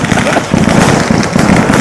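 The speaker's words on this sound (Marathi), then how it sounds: "अशा प्रकारे मंडळी फटाके चालू झालेले आहेत." Firecrackers and sky shots burst at a nighttime Ayyappa Swami fair, a loud, dense, continuous crackle of overlapping pops close by.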